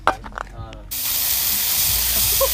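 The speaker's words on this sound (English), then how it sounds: "Spray paint." A spray paint can lets out a steady, loud hiss lasting about a second and a half, close by, right after a few brief voices speak.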